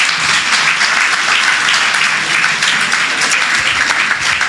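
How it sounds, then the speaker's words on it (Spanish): A church congregation breaks into loud, sustained applause, dense clapping from many hands filling the room evenly with no voices standing out. "Un fuerte aplauso a este Dios."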